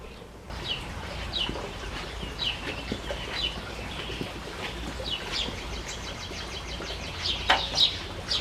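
Chickens and other birds cluck and chirp at a morning feeding, repeated short calls scattered over a steady outdoor background, moderately close and without talk.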